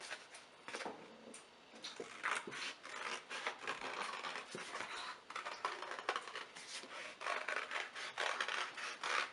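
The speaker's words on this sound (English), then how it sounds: "Cut this out quickly." Scissors snip steadily through paper to cut out heart shapes, a close, quiet run of crisp rhythmic cuts and rustling with no talk.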